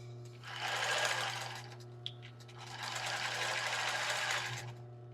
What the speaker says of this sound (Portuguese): Vamos costurar aqui embaixo também.